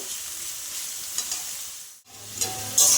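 Potatoes frying in oil in a pan without tempering spices, making a continuous close sizzle with occasional stirring clinks and a brief drop in the middle, with no voices.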